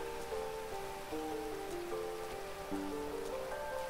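Rain falling in the video game GTA V makes a steady soft hiss, with sustained musical tones playing alongside it throughout.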